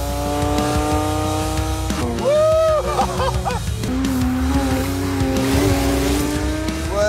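A fast sports car, capable of 0–100 km/h in 3.4 seconds and 318 km/h top speed, corners hard with loud, wavering tire squeals rising and falling over a strong engine drone.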